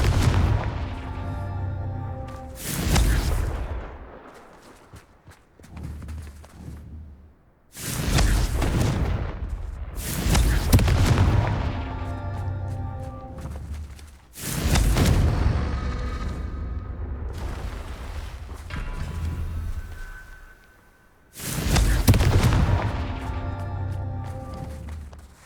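Confringo blasting spells in the wizarding game Hogwarts Legacy, several loud booming explosions at regular intervals with tonal magical ringing between them and no talk.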